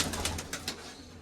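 Soft, rhythmic cooing of pigeons repeats a few times in quick succession, close by, over a faint steady hum.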